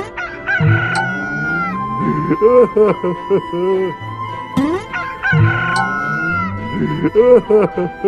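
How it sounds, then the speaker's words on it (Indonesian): A rooster crows in an animated Bible story for children. Loud, close cock-a-doodle-doo calls repeat about three times in a row, with clucking-like bursts between them. "mendengar ayam berkokok"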